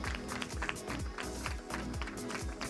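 Audience at a film press conference applauds an actor, a steady patter of many hands clapping at moderate distance with no talk over it.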